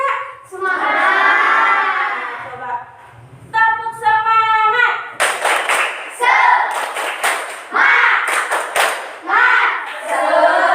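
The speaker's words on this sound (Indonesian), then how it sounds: "Coba tepuk semangat." An Indonesian primary school class performs the rhythmic 'tepuk semangat' clap, with bursts of sharp group clapping in patterned beats mixed with children's chanted shouts and a teacher's voice.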